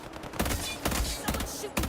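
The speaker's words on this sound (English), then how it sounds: "Someone's shooting me." Gunfire in the video game Highguard, dense bursts of shots in rapid succession with short gaps between volleys, loud and close with the game's ambient noise underneath.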